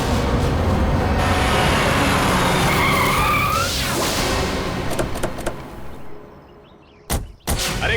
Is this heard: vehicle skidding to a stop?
yes